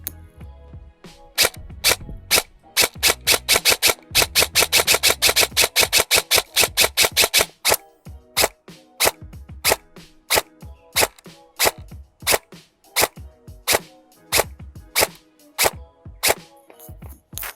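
A Specna Arms Edge 2.0 airsoft rifle firing 0.28 g BBs gives sharp, loud clacks, first a fast burst of rapid shots, then slower single semi-auto shots spaced roughly half a second apart.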